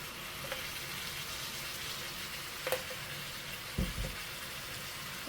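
Ground garlic frying in a pan gives a steady, quiet hiss of sizzling oil, broken by a few soft clicks and taps of a utensil against the pan.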